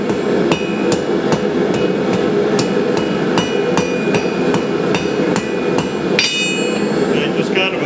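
A blacksmith hammers a steel tip to a slight taper on an anvil. Sharp ringing hammer blows land in a steady, fairly quick rhythm, close and loud, over a constant background hum with no voices.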